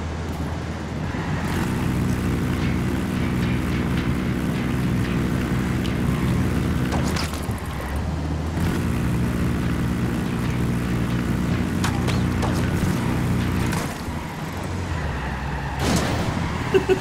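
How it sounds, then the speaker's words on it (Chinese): Helicopter in the video game Ghost Recon Wildlands, a sustained low engine and rotor drone running throughout, with brief sharp clicks and shifts in the mix near the end. "直升机。"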